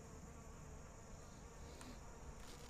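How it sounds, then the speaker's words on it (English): Honeybees at an open hive during winter preparation give off a continuous, even buzzing, a dense swarm-like drone that stays faint and steady throughout with no voices. "So now you know the bees are not wanting us around."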